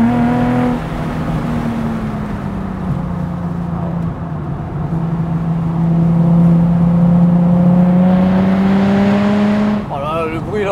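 Nissan 350Z convertible V6 with loud aftermarket exhaust revving and pulling under acceleration, a sustained rising engine drone over about ten seconds, with voices talking over it early on and a brief sharp burst near the end.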